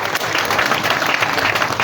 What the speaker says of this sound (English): Please give her a big hand clap as she comes.